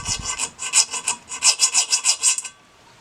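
A hand file rasps across the edge of a cutting tool in about a dozen quick, even strokes, close and crisp, then stops.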